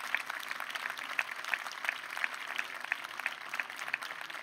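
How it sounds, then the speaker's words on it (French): An audience at a book-festival interview at the Festival du Livre de Paris claps in a modest, fairly faint round of applause. Individual claps stand out in an uneven patter. "je propose qu'on lui fasse une grosse salve d'applaudissements"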